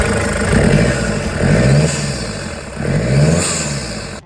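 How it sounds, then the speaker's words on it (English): An abandoned Toyota Hilux Surf being rebuilt, its engine revving while driving for the first time; loud, close engine drone rising and falling in about three surging revs with some clatter, no talking. "we're going to be attempting to drive the Hilux Surf for the very first time"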